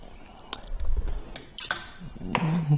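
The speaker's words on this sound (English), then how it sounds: "it's just a matter of dishing it up" Pork roast and vegetables being dished up onto plates: scattered clinks and scrapes of cutlery against dishes, one sharp louder clatter midway, with a brief voice heard nearby.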